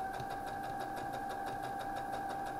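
A sewing machine stitches fabric for a five-pointed star pattern, a fast, steady mechanical whir with regular rhythmic pulsing, running continuously and close by.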